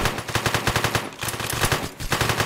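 Rapid machine-gun fire from SWAT officers in the robbery game One Armed Robber, loud, steady bursts of closely spaced shots with two short breaks, no talking over it.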